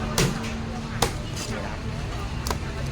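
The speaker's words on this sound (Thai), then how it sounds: "เริ่มแรกตัดหางนะครับ" A knife chopping through the tail of a giant Mekong catfish, with three sharp, loud cuts spread over a few seconds against a steady background hum.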